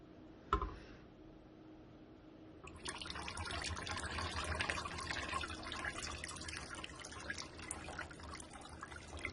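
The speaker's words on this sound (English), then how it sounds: "we're going to go ahead and add the lye water to our oil." A short knock, then a steady stream of lye water being poured into oil for hot process soap, a soft continuous trickle heard up close and fairly quiet.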